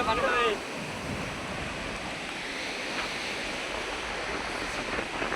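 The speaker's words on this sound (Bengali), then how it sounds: "গঙ্গা তলপাড় করছে।" Waves churning on the Bhagirathi Ganges river at Ghasuriadanga: a continuous broad roar of water and surf, with wind buffeting the microphone throughout.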